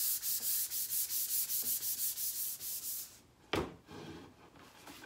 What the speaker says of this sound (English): so scuff sanding, not hard to do, you can do it.